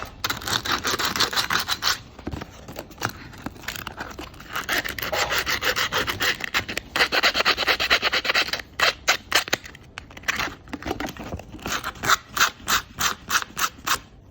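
Sandpaper rubbed back and forth over a voltage stabilizer transformer, a close raspy scratching in steady strokes that turns into quicker, shorter rhythmic scrapes toward the end, with no voices.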